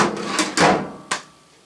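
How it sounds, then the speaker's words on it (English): A drawer on an eight-drawer machinist's tool box runs on its slides, with a few quick scraping and sliding strokes ending in a sharp knock as it stops. The sound is close and fades into quiet. "they have nice slides on them, and the drawers don't come all the way out"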